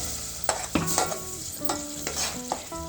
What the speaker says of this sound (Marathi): वाटण ना तेलावर छान परतून घ्यायचं पाच मिनटापर्यंत